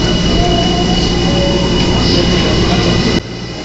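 Train noise at a station in Shiga, Japan, from a 12-car JR rapid service set now out of service: a loud, steady rumble with a thin high squeal running through it, dropping off slightly near the end, with no talk.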